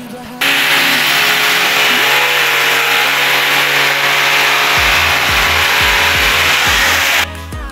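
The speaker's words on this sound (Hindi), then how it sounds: "सबसे पहले लगाने के लिए इसको ड्रिल करेंगे पहले, सबसे पहले ठीक है, देखो गाइस ड्रिल तो कर दी है" A power drill whines steadily as it bores into a bathroom wall corner, holding a constant pitch for several seconds before a few short bursts and then cutting off.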